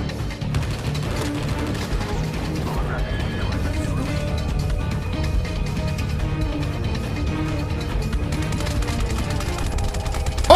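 Gunfire in the mobile shooter Call of Duty Mobile: rapid automatic bursts and scattered shots sound continuously through a battle royale match. Game dialogue and radio chatter play over the top of the firing.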